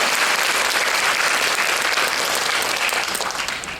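Audience at a school education concert gives a hearty round of applause, dense continuous clapping from many people that holds steady and then fades slightly toward the end.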